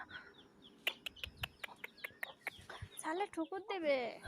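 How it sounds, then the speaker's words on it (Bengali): Soft, rhythmic clucking from free-range desi chickens and chicks in quick succession, followed by a voice speaking over it at the end, fairly quiet overall. "আমাদের আফিয়া বুড়ি আবার এই মুরগির বাচ্চাগুলোকে আটকিয়ে রাখছে এটার ভিতরে সব কটা"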